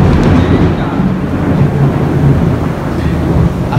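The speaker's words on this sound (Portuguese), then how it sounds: "A gente ignora que tá chovendo." Heavy rain pours steadily during a storm, with low rumbling thunder rolling underneath, loud and continuous throughout the short stretch.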